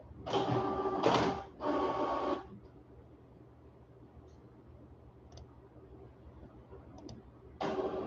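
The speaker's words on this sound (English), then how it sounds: "Hopefully my printer will work." A printer runs in short mechanical bursts, with three quick whirring passes close together, then quiet with faint clicks, then another pass starting at the end.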